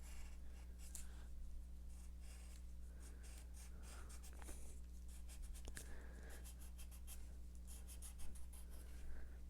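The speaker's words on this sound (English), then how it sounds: "I'm just erasing just too much" Pencil eraser rubbing on paper during a Godzilla drawing, a quiet continuous scratchy scrubbing in short strokes over a steady low hum, with no voices.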